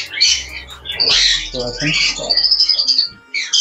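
Lovebirds at a breeder's aviary in a dense chorus of chirps and harsh squawks, close and loud, with someone speaking briefly over the birds.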